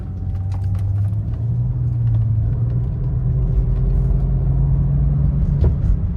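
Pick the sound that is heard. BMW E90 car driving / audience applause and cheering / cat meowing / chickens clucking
BMW E90 car driving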